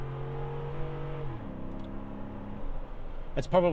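A 2012 Ford F150 Raptor engine pulling hard while driving, a steady tone that drops as it shifts and then hums on, with someone talking over it and a louder burst at the end.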